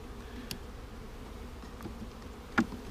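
Honey bees in a package bee colony hum in a steady, moderately faint drone, with a few louder close passes as individual bees fly by.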